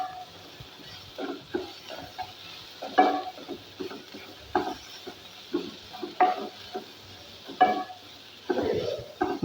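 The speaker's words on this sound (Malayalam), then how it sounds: "ഒന്നും കൂടി നല്ലോണം മിക്സ് ചെയ്യാം" A spoon scrapes repeatedly around a pan, mixing a spiced bonda filling with chilli powder and turmeric, in short irregular strokes close by with brief pauses between them.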